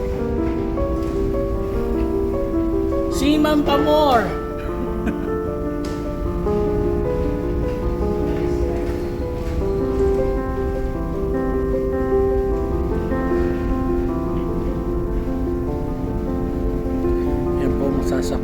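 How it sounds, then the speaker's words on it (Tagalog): High ocean waves in bad weather at sea wash and rumble continuously beneath a boat's steady drone, while someone talks over the noise. "Ganyan po rito sa karagatan pag medyo masama ang panahon. Matataas po ang alon."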